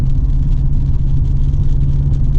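Subaru WRX with Cobb cold air intake and Accessport tune under a second-gear pull, a loud, steady low engine rumble droning without a break, heard from inside the car.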